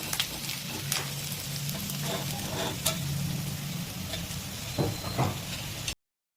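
Fish frying in oil in a pan, a continuous sizzle with scattered light ticks and taps from a utensil, steady and close, ending abruptly.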